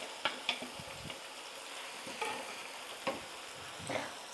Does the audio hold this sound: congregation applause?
no